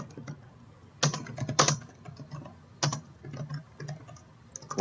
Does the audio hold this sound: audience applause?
no